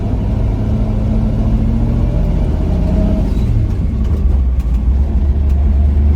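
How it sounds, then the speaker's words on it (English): A 1959 Chevy with a three-on-the-tree column shifter, rolling while being put into first gear, giving a steady low engine rumble and drivetrain groan close by with no voices. "Gives a little moan and groan, getting it into first gear while you're still rolling."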